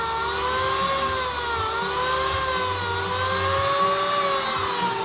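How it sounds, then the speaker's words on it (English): An Eastwood tungsten electrode grinder runs in a car workshop, giving a steady, close motor whine with a slowly wavering pitch and no pauses. "We also have one of these Eastwood tungsten grinders."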